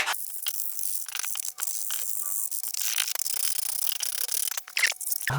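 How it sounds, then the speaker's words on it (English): Rough sandpaper rubs steadily against a model rocket body tube in close, continuous scratchy strokes with small irregular pauses. "now I'm going to take some rough sandpaper and sand that down"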